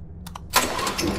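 A generator in a horror video game cranks with a couple of quick starter pulses, then catches and settles into a steady, rumbling mid-pitched engine drone, moderately loud with no talk.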